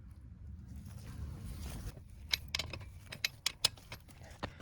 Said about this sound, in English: I'm gonna untighten the 19mm rear wheel nut